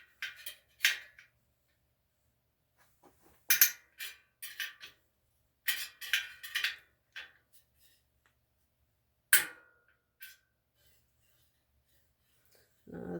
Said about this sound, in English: Now it's very normal to hear some cracking, popping like that.